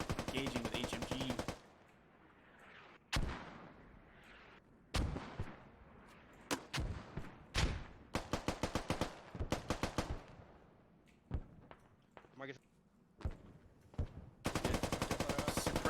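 Heavy machine gun fire in a competitive tactical shooter match, coming in repeated bursts of rapid shots with quieter gaps between them, loud and sustained at the start and end.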